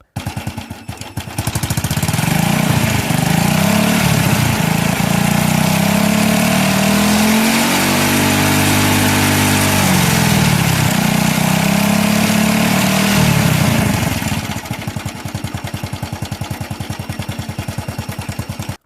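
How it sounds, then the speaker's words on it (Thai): A Wave 110i motorcycle engine idles with a rapid, ticking putter, then revs up and holds a higher drone before dropping back to idle. "ขณะที่เดินเบาและเร่งเครื่องครับ"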